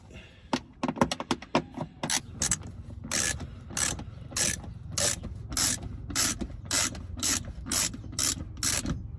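A ratchet with an 8mm socket loosens bolts on a Mercedes-Benz E320 W210 during radiator replacement, giving close rapid clicking bursts, first quick and dense and then slower, steady repeated strokes.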